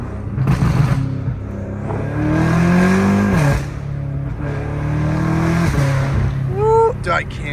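Dodge Hellcat Redeye V8 with a titanium catback exhaust revving at night, loud and close, with rising and falling engine swells over several seconds while someone talks over it.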